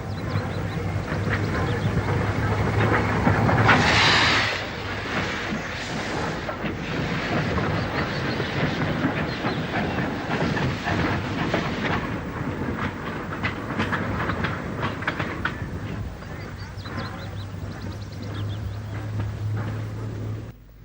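An LMS steam locomotive hauls a mixed goods train on the Stour Valley main line near Wolverhampton High Level toward Bushbury, giving a loud, steady rumble and clatter that runs throughout with no pause.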